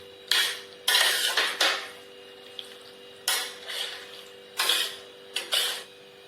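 Masala okra (bhinda) gets stirred in a pot, the spoon scraping and clinking against the metal in several distinct bursts separated by short pauses, close and fairly loud, with no talking.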